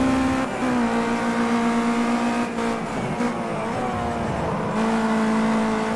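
In Project Cars 2, a race car's engine drones steadily and loudly as the rear end slides out in oversteer. The engine pitch dips and recovers under a thin tire squeal, with no talk.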